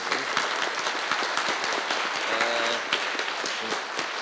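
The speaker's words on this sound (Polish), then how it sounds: "kiedy są oklaski, to ja biję brawo z pozostałymi" Audience applause at the close of a panel discussion: dense, sustained clapping from a crowd, loud and steady throughout, with a brief voice faintly underneath.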